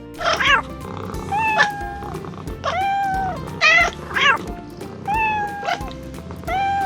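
Several loud, close cat meows, each a drawn-out rising and falling cry, repeated every second or so over a low background hum.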